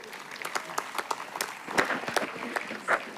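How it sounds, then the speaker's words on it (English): A convocation ceremony audience applauds the graduating students, producing steady, moderately loud clapping from many hands with a few sharper claps near the front, lasting a few seconds. "you deserve a round of applause"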